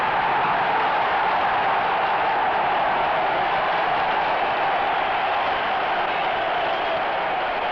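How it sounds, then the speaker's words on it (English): A packed Quebec arena crowd at the Colisée roars during a 1974 Team Canada versus Soviet hockey game, a dense, steady wall of cheering and clapping that stays loud and unbroken throughout. "ties the game and sends this Quebec crowd into ecstasy"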